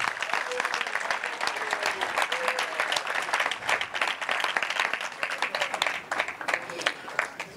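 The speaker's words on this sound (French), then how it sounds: "Applaudissons très fort pour lui." A seated audience at a French-language association gathering applauds a person who has stood up to be introduced, giving sustained, lively clapping with many distinct hand claps at moderate volume and no talk.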